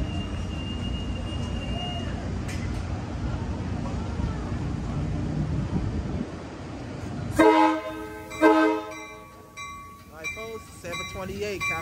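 An Amtrak Capital Corridor train departing Oakland Coliseum Station, bound for Sacramento, rumbles past steadily before loud, sustained horn blasts sound up close, with a voice talking over the later part.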